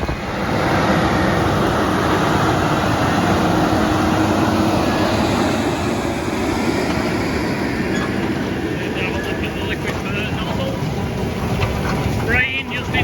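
Farm tractor working in a field, drilling seed while spraying just ahead of the seed drop, a continuous loud broadband engine and machinery roar throughout, with voices talking over it.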